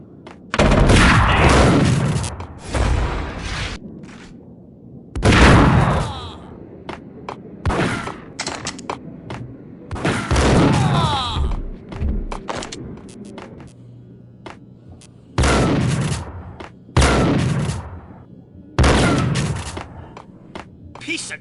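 Gunfire in the video game Max Payne: repeated loud bursts of shots and booming impacts in clusters separated by quieter gaps, with a voice talking over parts of the action.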